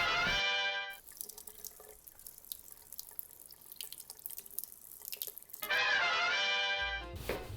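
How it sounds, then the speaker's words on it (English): Running sink tap water splashes over rice held in a strainer, a steady continuous rush between clanks at the start and end, with no talking. "I'm gonna do a quick rinse of this in the sink"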